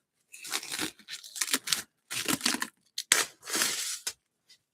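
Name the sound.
sticky plastic wrap being pulled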